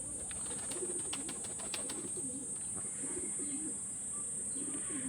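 Pigeons coo faintly in a series of low, rolling calls outdoors on a cloudy evening, under a steady high-pitched background whine, with no speech.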